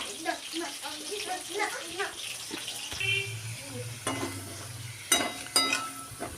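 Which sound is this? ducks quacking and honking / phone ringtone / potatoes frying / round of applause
potatoes frying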